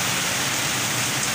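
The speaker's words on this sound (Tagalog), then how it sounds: "Grabe talaga lakas ang ulan." Heavy rain pours steadily on Tagaytay Road during a storm, a loud, unbroken wash of hiss with no gaps and no voices.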